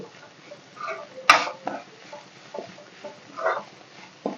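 A spoon stirs a coconut and broad bean fry in a pan, with soft scraping and light clatter in an uneven rhythm and one sharper knock, moderately close.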